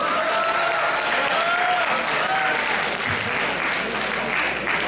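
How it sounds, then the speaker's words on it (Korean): Sustained applause from an audience at a student research presentation: brisk, continuous clapping from many hands, close and loud throughout with a faint murmur beneath. "박수 안 나옵니까?"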